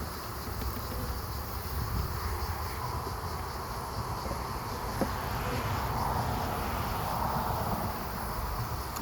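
Honeybees around an open hive at a garden apiary, whose frames are being handled, keep up a soft, even hum throughout, faint and somewhat distant, with one brief tap partway through.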